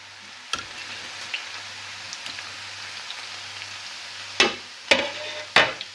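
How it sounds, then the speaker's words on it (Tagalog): Garlic dropped into hot olive oil while making chilli sauce, a soft continuous sizzle with a few sharp crackling bursts and clatters near the start and toward the end. "Okay na yung ating olive oil. Lagay na natin ang ating bawang."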